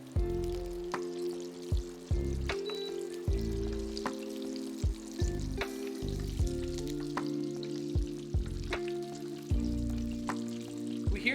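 Chicken strips frying in a pan for macaroni, a steady soft sizzle and crackle with scattered pops and occasional stirring or clinking knocks, close and fairly quiet.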